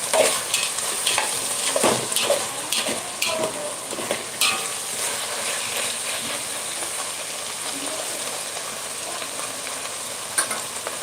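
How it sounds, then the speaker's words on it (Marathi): Spring onion greens sizzle and hiss in hot oil in a pan while being stirred for Khandeshi bharit, with steady close frying noise and scraping stir strokes throughout. "कांद्याची पात देखील तेलावर छान परतली गेली आहे"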